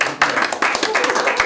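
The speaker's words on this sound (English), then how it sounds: "Can we applaud?" A short burst of people applauding at a town selectboard meeting, many hands clapping together in a quick, uneven patter.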